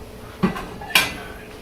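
A microwave-safe plate is set down and handled in a kitchen, giving two sharp ceramic clinks about half a second apart, close and clear with no talking.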